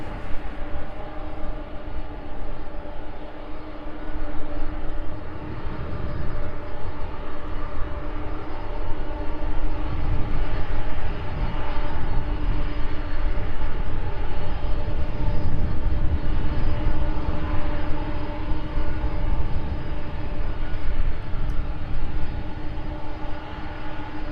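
A Boeing 747 cargo jet at East Midlands Airport taxis onto runway 09, its engines a steady, broad roar that holds throughout without pause or talk.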